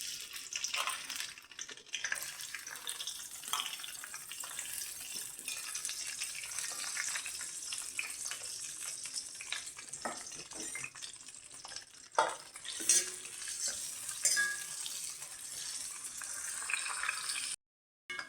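Sliced onions and green chillies frying in hot oil in a pan for an eggplant and raw mango curry, a steady close sizzle with occasional stirring scrapes and clinks, and no talk.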